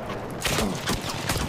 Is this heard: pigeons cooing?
no